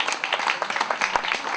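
Applause from an audience at a beach opening ceremony in Moissac, a brief burst of dense, fairly loud clapping that runs unbroken for about a second and a half.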